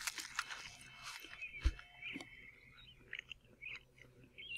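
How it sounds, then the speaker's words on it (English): A character in S.T.A.L.K.E.R.: Call of Pripyat with the Misery 2.0 mod eats a chocolate bar, making faint, crisp biting and chewing crunches in short irregular bursts over quiet game ambience. "Oh, listen to that chewing."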